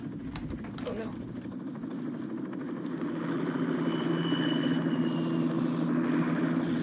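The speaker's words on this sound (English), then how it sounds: "I hear a giant helicopter coming after me" A video game helicopter's rotor drone rumbles low and steady, growing louder as it approaches, with a person talking over it.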